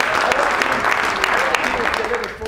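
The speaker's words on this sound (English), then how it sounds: "Round of applause for those kids" An audience applauds children at a comedy performance, dense steady clapping throughout, fairly close, with a voice speaking over it.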